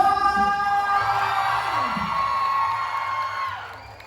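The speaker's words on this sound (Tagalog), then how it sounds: "Sige, palakpakan naman nilang hiyawan dito na sa..." At a live comedy show during a Sinulog festival in Kabankalan City, a crowd whoops and cheers with clapping beneath, the noise swelling and then fading over a few seconds alongside a held tonal sound.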